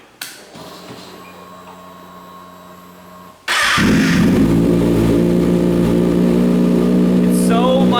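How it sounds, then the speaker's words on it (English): A 2012 Kawasaki Ninja ZX6R motorcycle after a whirring, humming lead-in that lasts a few seconds: the engine starts abruptly and settles into a loud, close, steady idle with a brief blip of revs near the end. "I'm about to start the bike, so make sure you turn your speakers down if you don't want to be deafened right here."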